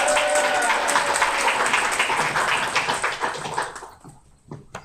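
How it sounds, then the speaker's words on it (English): Audience clapping at a book launch event in Los Angeles, loud and dense at first, then thinning out and fading to a few scattered claps. "Give it up, Faye Hernandez."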